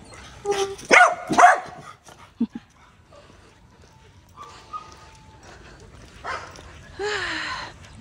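A dog barks a few times in quick succession near the start, fairly close and loud, followed by quieter stretches with some human voices and faint whimpering sounds.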